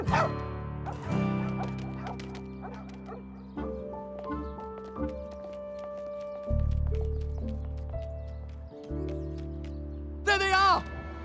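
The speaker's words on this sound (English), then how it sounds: "what a sweet little dog" A small cartoon dog in an animated Thanksgiving special gives a few short, bright yips and barks among music and sound effects.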